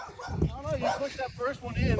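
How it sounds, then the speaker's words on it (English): A dog barks and yips in short bursts, moderately close, while people talk over it. "Sorry about the dog."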